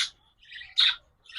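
Finches in a large home aviary colony give short bright chirps in a few quick bursts with gaps between them, close and clear, with no talk.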